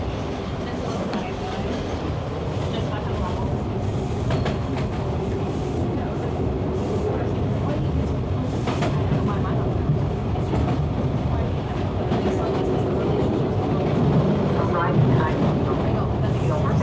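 A Toronto TTC subway train runs late at night near Lansdowne, heard from inside the car as a steady, loud rumble with rail clatter throughout, and faint voices now and then.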